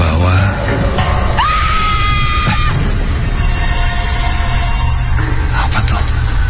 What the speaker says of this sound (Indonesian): teriakan sangat kencang